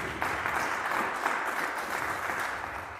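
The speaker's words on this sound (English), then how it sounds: "Clap your hands if you agree with that." A church congregation clapping their hands during a sermon, a full, even spread of applause from many people filling the room for a few seconds without talk.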